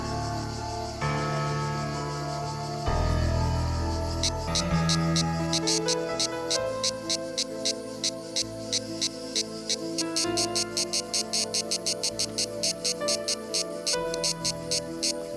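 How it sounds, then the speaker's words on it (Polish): Male cicadas sing mating songs in the park around the ruins of ancient Butrint, Albania, a rapid train of sharp pulsing chirps that grows denser over music-like tones. "w którym nieustannie słychać pieśni zalotne samców cykad"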